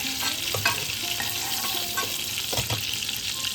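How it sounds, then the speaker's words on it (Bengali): Prawns frying in hot oil in a pan, a steady close sizzle with occasional stirring scrapes and clinks, no talking. "এদিকে চিংড়ি মাছটা আমাদের ভাজা হয়ে গেছে।"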